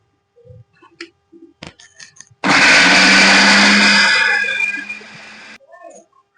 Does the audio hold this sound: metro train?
no